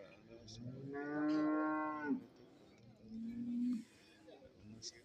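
Buffalo calves at a cattle market give two drawn-out moos, the first longer and fuller, the second shorter, against soft background murmur and faint bird chirps.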